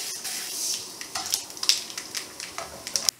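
Mustard seeds popping and sizzling in hot frying oil as spices go in for a Kerala-style brinjal fry, with sharp irregular crackles and pops over a soft hiss, fairly quiet and close.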